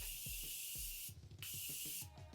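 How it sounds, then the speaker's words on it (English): Two short hissing bursts of setting spray, close by, with soft bumps and handling sounds between them. "And then one final spray with my setting spray."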